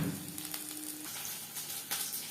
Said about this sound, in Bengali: প্রত্যেক ব্যাচের পাকোড়া একইভাবে ভেজে নেব